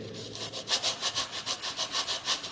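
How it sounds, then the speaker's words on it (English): A wooden pattern is rubbed back and forth by hand to smooth its surface, a close rhythmic rasping of about a dozen even strokes in quick succession, with no speech. "rubbing on it, we can easily get a smooth surface"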